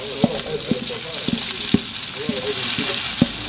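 Garlic and onion frying in a pot for Kuwaiti machboos, a bright close sizzle broken by repeated scrapes and knocks of a spoon stirring the pot, no voices.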